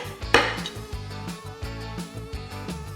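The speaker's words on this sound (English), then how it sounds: "So our garlic, we could keep it, in whole like that. Or to make everything bite-sized, what I'd do is cut it in half." Knife slicing garlic cloves in half on a cutting board while cooking Korean soy sauce beef: one sharp bright clack near the start, followed by a series of soft, evenly spaced dull taps.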